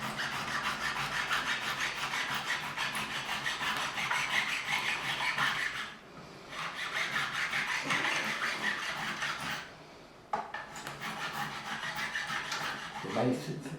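A hand file rasps steadily along the binding edge of a Gibson Les Paul Custom guitar to bevel it, with repeated close scraping strokes broken by brief pauses.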